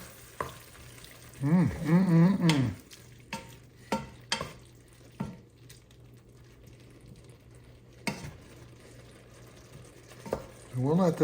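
Oysters and their juice cooking in a pan, a soft sizzle under intermittent stirring and sharp utensil knocks against the pan, with brief bursts of voice between.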